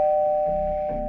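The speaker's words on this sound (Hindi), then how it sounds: "दरवाजे की घंटी बजी।" A doorbell rings once in a steady electronic tone that holds for about a second, close and clear, with no voices.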